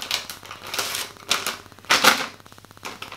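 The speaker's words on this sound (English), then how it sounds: "So I'm just getting out my wet wipes." Crinkly plastic rustling and crackling comes in short bursts as a soft wet wipes packet is pulled open and handled up close.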